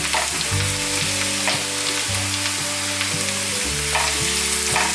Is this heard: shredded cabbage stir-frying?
yes